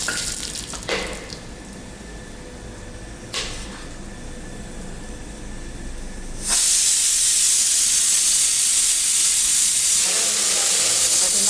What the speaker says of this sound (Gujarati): તેલની અંદર નાખી દઈશું થોડી રાઈ, આખું જીરું, સૂકી મેથી, 2 મરચાં, તજ ને બાદિયા